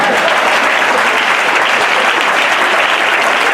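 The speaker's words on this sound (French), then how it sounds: "on acclame le Seigneur" Loud, dense applause from a church congregation acclaiming the Lord during a sermon, a continuous roar of clapping held for several seconds with no gaps.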